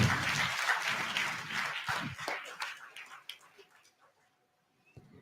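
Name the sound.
audience applause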